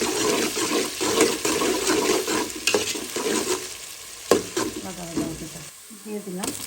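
Cumin seeds dropped into hot oil with cardamom, cinnamon, bay leaves, cloves and peppercorns sizzle in bursts of crackling hiss while a spoon stirs and scrapes the pan close by.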